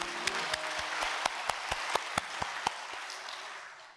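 A church congregation at a sermon breaks into applause. A dense wash of clapping comes with a few sharp, evenly spaced loud claps ringing out over it, then fades away toward the end.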